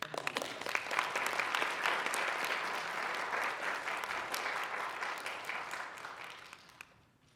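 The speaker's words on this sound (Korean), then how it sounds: "자, 우리 목사님 나올 때 박수로 크게" A church congregation applauds as the pastor comes up, steady dense clapping filling the room for several seconds before fading out near the end.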